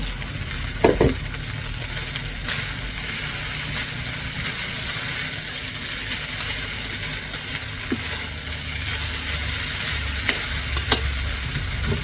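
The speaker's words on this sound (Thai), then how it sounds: "แล้วเราก็ใส่ถั่วงอกลงไปหน่อยหนึ่ง" Rice vermicelli with egg and bean sprouts stir-fried in a wok, a continuous close sizzle with occasional scraping and clacks of the spatula, with no talking.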